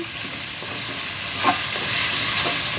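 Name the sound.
adding coconut milk to squash in the pot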